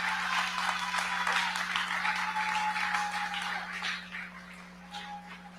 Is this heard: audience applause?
yes